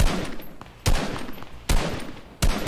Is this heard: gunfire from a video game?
yes